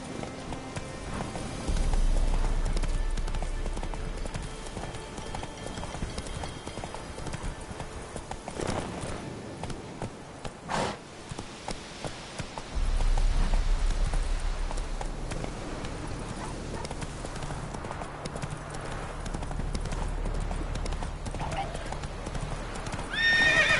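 Roach, a horse in The Witcher 3, gallops with loud, steady clip-clop hoofbeats and an occasional whinny, while game music and effects play and a voice speaks at times.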